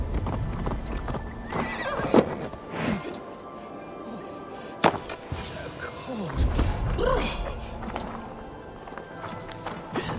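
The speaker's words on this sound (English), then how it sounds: "The tired horse. Ploddity plod plod." Horse hooves clip-clop steadily through Assassin's Creed Valhalla, a tired horse plodding close by, with a loud neigh and snorts breaking over a dense game ambience.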